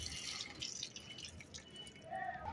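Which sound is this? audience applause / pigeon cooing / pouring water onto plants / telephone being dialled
pouring water onto plants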